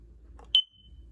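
A Kidde FireX hardwired smoke alarm gives one short, sharp test beep that rings briefly and fades, standing alone against quiet room hum.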